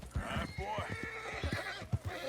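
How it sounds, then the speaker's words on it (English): Horse neighing and whinnying in Red Dead Redemption 2, with a steady rhythm of hoofbeats clip-clopping along a trail beneath it; moderately loud and close, with talk over parts of it. "O cavalo tá cansado, hein?"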